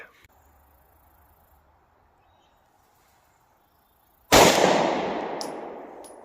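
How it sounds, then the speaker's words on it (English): A single loud, close 9mm gunshot from a short barrel firing a Federal HST round into test blocks, bursting out after a quiet stretch and then ringing off in a long decaying echo. "We'll take a shot now with HST."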